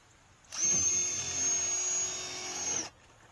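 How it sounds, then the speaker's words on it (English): A power drill whirs steadily for about two seconds at close range, drilling a pilot hole for a mailbox, starting and stopping abruptly, with a high motor whine throughout. "First thing we got to do here is drill a pilot hole."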